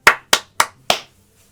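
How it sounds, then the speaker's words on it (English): Four sharp hand claps, close and loud, evenly spaced about a third of a second apart, with silence after the last. "I clap, clap, clap."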